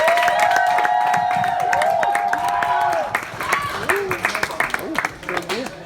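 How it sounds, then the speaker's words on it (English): An audience at a radio awards ceremony breaks into clapping and whoops after a stretch of voices, the applause rising in scattered, uneven bursts near the end. "round of applause for Abigail McAlpine and Gareth Wilkes"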